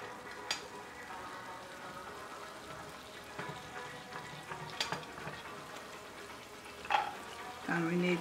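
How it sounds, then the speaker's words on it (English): Shrimp and garlic sautéing in a pan, a continuous moderate sizzle broken by scraping stirs and clinks of a utensil, with a brief splash near the end. "Okay, we need to start to saute the shrimp."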